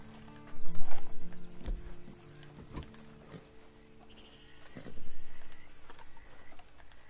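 Horse hooves clip-clop with snorting and a whinny amid Red Dead Redemption 2 Online game ambience, louder bursts early and near the end, no talking.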